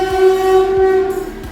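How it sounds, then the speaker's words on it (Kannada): A goods train hauled by a WAG-7 electric locomotive passes close by, its horn blaring in one loud, sustained blast while low rumbling wheel thumps repeat underneath. "ಟ್ರೈನ್ ಬಂತ"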